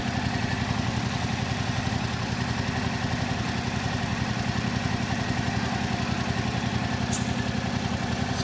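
A 2022 Yamaha R7 motorcycle engine idles steadily and loudly up close, its even rapid low pulsing running throughout with no talk, warming up after an oil filter change.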